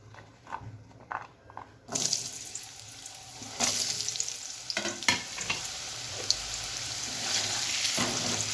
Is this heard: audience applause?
no